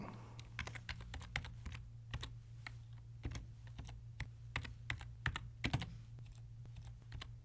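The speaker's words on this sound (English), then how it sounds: "So I'll type the date." Computer keyboard being typed on to enter a date: a steady run of crisp, close key clicks in irregular bursts over a low constant hum, with no talking.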